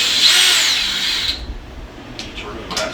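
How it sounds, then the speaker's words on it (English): Cordless drill with a Phillips bit backing a screw out of a Bissell ProHeat Pet carpet cleaner nozzle, a short loud whine that fades within about a second, followed by faint clicks and handling sounds. "I'm going to use a drill just to save some time."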